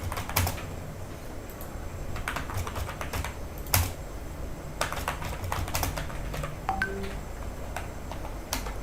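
A computer keyboard clatters as someone types a student's basic details into an online form, with irregular close key clicks and a few heavier taps over a low background hum, with no talking.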